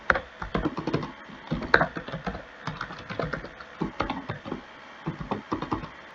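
C program code is typed on a computer keyboard in a rapid, uneven patter of close, clear key clicks with brief pauses, and no talking.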